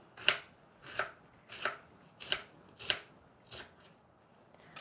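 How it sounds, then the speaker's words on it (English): A knife slices endive crosswise for a savory galette, making seven crisp, evenly spaced chopping strikes on a board, close and clear with no talking. "So for the endive, I'm going to slice them crosswise."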